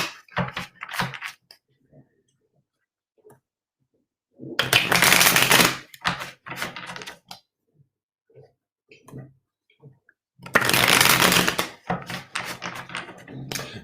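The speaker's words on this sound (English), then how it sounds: "as I'm shuffling the cards" Tarot cards shuffled by hand in two loud riffling bursts, separated by quieter taps, clicks and handling noises, with no talk over them.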